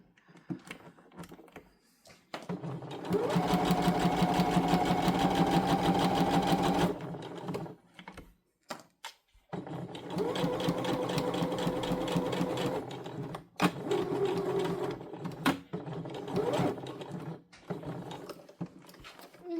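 A sewing machine stitches a fabric scrunchie up close, running in two long, steady whirring bursts separated by short pauses and light mechanical clicks.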